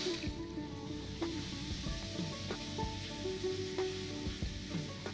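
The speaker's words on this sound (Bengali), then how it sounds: "এবার আমি ওর মধ্যে একটা টমেটো বাটা দিলাম" Tomato paste sizzling in a frying spice masala for potol chingri, a soft, steady hiss with faint scraping from stirring throughout, no talking.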